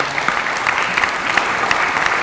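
Conference audience at a military history convention in Taranto applauding, a dense, even wash of hand clapping filling the short stretch at close range.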